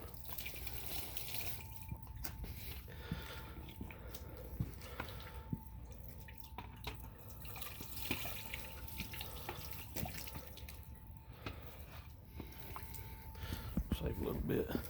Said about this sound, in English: I'm just going to use some ice and some cold water on the pot